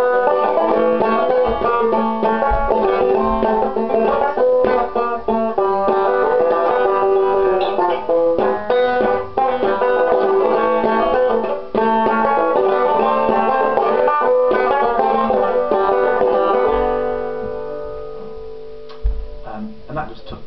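Lively banjo strumming plays a rolling rhythmic pattern at a steady volume, fading near the end, where a few soft voiced sounds come in.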